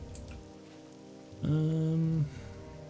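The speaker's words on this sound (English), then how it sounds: "It's raining here in Westfall." Steady rain in Westfall in World of Warcraft Classic hisses softly throughout, overlapped midway by a loud sustained tonal game chime lasting under a second.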